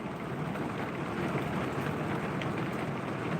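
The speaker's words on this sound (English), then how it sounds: "You can hear the rain." Steady, dense rain pours down continuously in North Carolina, a constant hiss with no voices or breaks.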